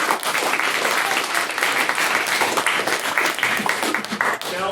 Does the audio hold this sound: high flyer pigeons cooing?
no